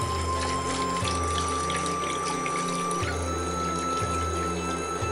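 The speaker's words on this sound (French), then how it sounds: "je vais ajouter la darne de saumon et je vais mettre de l'eau à niveau" Water pours steadily into a cooking pot over a salmon steak for a Vietnamese-style simmered fish, a continuous close splashing stream with no voices.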